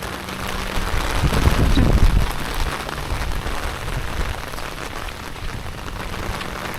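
Steady rain falls on a farm where cows graze, a continuous hiss of drops on surfaces, with a heavier, louder patter swelling briefly before settling back to an even shower.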